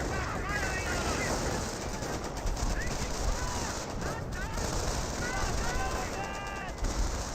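Company of Heroes battle with dense, continuous rifle and machine-gun fire and artillery thuds, loud and constant, while a voice talks over the combat.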